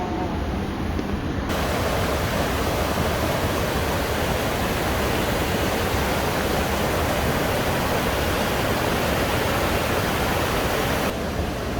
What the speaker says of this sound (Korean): 마을 한가운데로 이렇게 많은 물이 흐릅니다